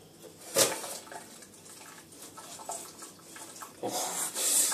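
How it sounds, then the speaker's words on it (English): Hot pasta water is poured out into a sieve in a kitchen, with irregular gushing splashes and trickles at close range, moderately loud and without talk. "empty out that lovely liquid."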